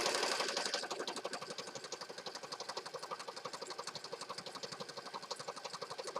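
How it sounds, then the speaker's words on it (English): A sewing machine stitches little paper scraps onto an accordion fold journal, its needle chattering in a fast, steady rhythm throughout at close range. "I'm just going to stitch down this side"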